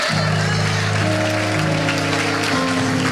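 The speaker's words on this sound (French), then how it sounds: "Acclamez pour Jésus." Church congregation applauding for Jesus: dense, steady clapping from a crowd filling the space for about three seconds, with sustained tones underneath.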